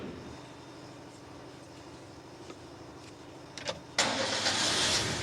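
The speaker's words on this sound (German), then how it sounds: "ob der Wagen anspringt oder nicht" A 1970 Simca 1301 engine cranks briefly, then catches and roars into a steady, loud run that holds to the end, after a quiet stretch of low background noise.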